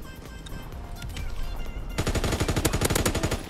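MG-15 light machine gun firing in Call of Duty WWII: a loud, rapid, continuous burst of closely spaced shots after a quieter stretch of ambient game noise and faint distant fire.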